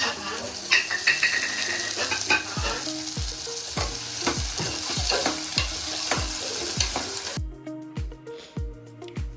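Beans, carrot and potato fry in a pan while a spatula scrapes and knocks rhythmically against the metal, steady sizzle under repeated stirring strokes that stop near the end.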